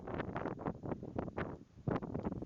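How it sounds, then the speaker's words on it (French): Strong storm wind batters the microphone while cycling near Mount Ararat, a continuous roaring rumble with repeated gusty surges, loud and close, with no voices. "Nos premiers kilomètres se font dans la tempête de vent."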